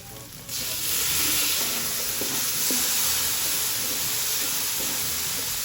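Mushrooms drop into a hot frying pan with oil during carbonara cooking, setting off a sudden loud, steady sizzle and hiss that continues strongly with occasional stirring clatter.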